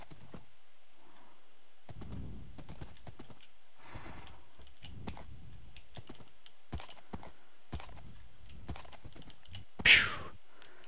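Horse hooves in the Minecraft video game, a scattered series of soft clip-clop steps heard alone in quiet surroundings, followed by a single sharper burst near the end.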